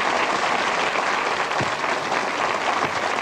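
Audience applause at a magicians' club show in Blackpool, a steady, dense clapping from a crowd that fills the whole moment without pause.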